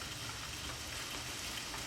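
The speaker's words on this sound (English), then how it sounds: "If you hear water, it's because it's like sleeting outside and I'm right by a window." Sleet falls outside close to a window, making a faint, steady wash of hissing patter with no voices.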